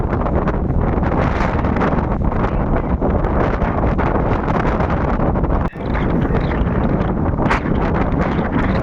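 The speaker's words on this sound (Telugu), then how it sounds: "గాలి చాలా భయంకరంగా ఉంది" Heavy cyclone wind on the Tamil Nadu coast roars and buffets the microphone continuously, a loud broadband rush with a brief dip partway through.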